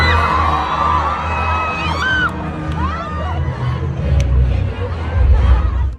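A large crowd of fans at a concert in an Arab royal kingdom roars with sustained cheering, whoops and shrill yells, dense and loud throughout, swelling toward the end.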